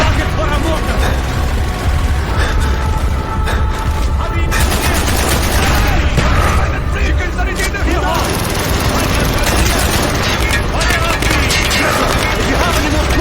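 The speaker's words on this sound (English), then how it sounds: "Firing mortar!" Loud, continuous battle din from the Call of Duty Black Ops campaign, with mortar launches and heavy explosions layered over sustained automatic gunfire and mechanical rumble, shouted voices mixed in throughout.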